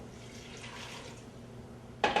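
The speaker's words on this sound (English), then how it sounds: "So next I'm going to add the water." Water is poured into a pot of gumbo in a home kitchen, a brief splashing gush that starts suddenly near the end after a low, steady background hiss.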